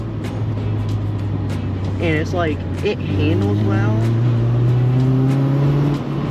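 Honda Civic driving along with a steady low engine drone and road noise throughout, while someone talks over it close to the microphone.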